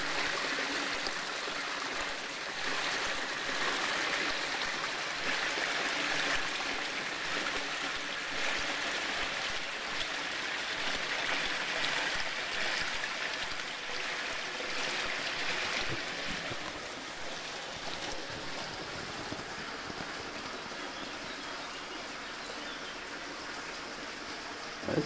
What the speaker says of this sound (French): Le bassin est bien rempli, donc voilà, ça coule là